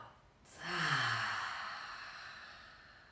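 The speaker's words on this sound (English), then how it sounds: "Taking a deep breath in and a long breath out." A slow, deep breath drawn in and then let out in a long, soft exhale during a calm yoga nidra relaxation, close and quiet with no other sound.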